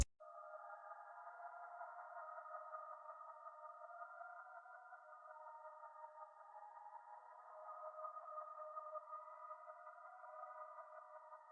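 A soft, smooth synth pad holds a steady chord throughout, washed in a shimmering delay from the Portal plugin that keeps the sound continuous and even, with no breaks.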